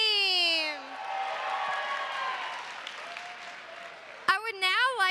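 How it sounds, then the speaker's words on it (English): Crowd applause for a line dance team at a community dance marathon celebration, a broad wash of clapping and cheering under a sliding tone at the start and a voice near the end. "let's give a big round of applause for our line dance team"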